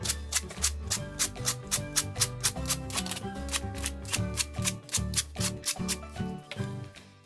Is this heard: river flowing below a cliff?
no